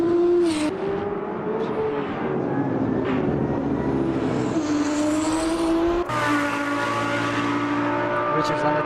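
Race cars in the Automobilista 2 sim tearing around the Nürburgring Nordschleife during a 24-hour championship race, a BMW hypercar among them, engines droning and shifting pitch as they pass, with a commentator talking over the top throughout.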